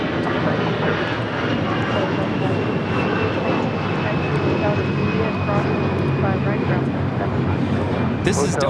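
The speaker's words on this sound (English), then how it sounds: "This is Delta Airlines 962, taking off to Dallas Fort Worth on an A320" Delta Air Lines Airbus A320 taking off at LAX, a loud sustained jet engine roar with a thin rising whine across the whole stretch, a voice talking over it.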